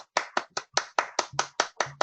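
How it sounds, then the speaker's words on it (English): Close, evenly paced clapping closes a talk on dysarousal, around ten sharp claps from what sounds like a single pair of hands, with no voices. "let's have a round of applause for Dave"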